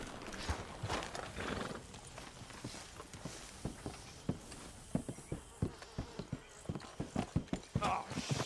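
Horses in the Red Dead Redemption 2 video game clip-clop on the ground at a walking pace, with a whinny near the start. Steady hoof strikes grow more frequent and prominent toward the end, with faint voices in the background.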